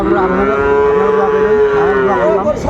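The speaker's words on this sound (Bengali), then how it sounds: "শাহাবুর ভাই এই যে সুন্দর সুন্দর গরুগুলো কালেকশন" A long, loud moo from Sahiwal cattle on a farm in Chuadanga, with a rising and falling drawn-out tone, close by and continuous for a couple of seconds.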